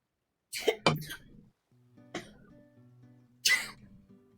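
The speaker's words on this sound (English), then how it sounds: "He did that cough" A few short, harsh coughs close by, two quick ones followed by two more after pauses, over faint background noise.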